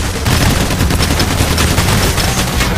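Dense, continuous automatic gunfire from a firefight in the video game Payday The Heist, loud and close, with rapid overlapping shots filling the whole stretch without pause.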